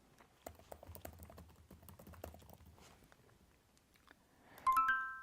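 Calendar event title typed on a computer keyboard: a run of quick, light key clicks in an uneven rhythm, close and moderately quiet, followed by a short bright electronic chime at the end, with no speech.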